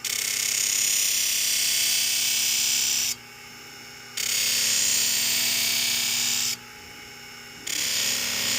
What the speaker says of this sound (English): And then we'll do the final step, which will be the stropping.